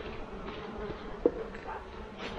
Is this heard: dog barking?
no